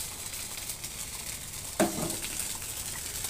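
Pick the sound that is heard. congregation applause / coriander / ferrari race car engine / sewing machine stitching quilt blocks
coriander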